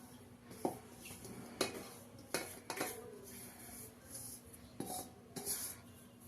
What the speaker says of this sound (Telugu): ఇప్పుడైతే ఒక గిన్నెలోకి వేసుకొని పిండి కలుపుకుందామండి.